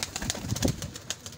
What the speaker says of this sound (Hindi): ये कबूतर को किसका है? ये मेरा कबूतर है।